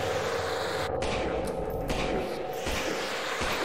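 Gunfire in the horror game Lost in Vivo, a dense, loud stream of overlapping shots and noisy blasts with a few sharper cracks standing out, heard continuously without pause.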